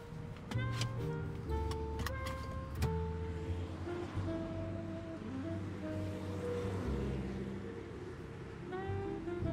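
A car drives along in a short drama, its cabin filled with a steady low road rumble and faint tonal whines throughout, with no talking.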